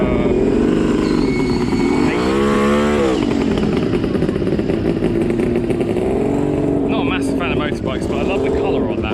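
Motorcycle engine running steadily at a classic car show, a loud continuous rumble with revving swells, under a man and woman chatting nearby.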